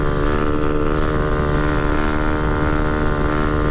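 Motorcycle held in a wheelie in 4th gear at over 60 mph on a road with corners, engine droning loud and steady with heavy wind rush throughout, no voices.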